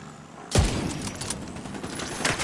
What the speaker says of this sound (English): Yeah, exploded once again.